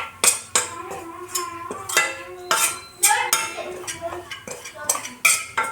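A spoon scrapes and clinks against a pan while milk powder is stirred into walnut halwa, repeated metallic knocks and rattles in an irregular rhythm, close and fairly loud.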